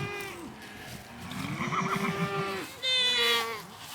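Goats on a farm bleat loudly and close by in several wavering, drawn-out calls that overlap one another, with no talking.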